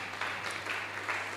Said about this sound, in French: On acclame Dieu pour notre frère.